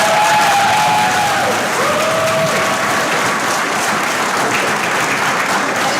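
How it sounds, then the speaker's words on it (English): Loud, steady crowd applause at a high school awards program, filling the space with dense clapping and faint cheers, a brief tonal whistle early on. "Let's give them an applause."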